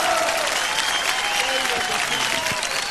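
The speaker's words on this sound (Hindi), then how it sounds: "एक बार जोरदार तालियां तो बनती हैं" Studio audience applauding a dance performance on a televised celebrity dance competition, steady dense clapping throughout with musical tones and a host's voice faintly underneath.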